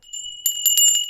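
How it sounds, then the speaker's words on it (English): A small tinkly bell rings in quick bright strikes, several rapid dings close to the mic with a sustained shimmering tone, loud and alone. "Tinkly Bell"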